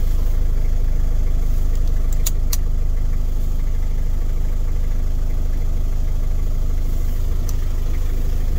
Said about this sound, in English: Got the key in the ignition for the power. I can fire that up so you guys can hear it.